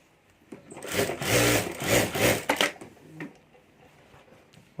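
Sewing machine running in a few sustained bursts while stitching a fabric strip onto a handmade party bag, loud and close, ending in quieter handling noise.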